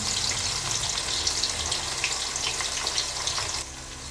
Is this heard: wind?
no